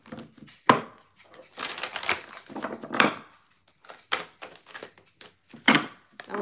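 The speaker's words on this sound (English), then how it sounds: "That was a weird shuffle." Fortune reading cards are shuffled by hand in a series of irregular riffling and slapping bursts, close and fairly loud, with short pauses between.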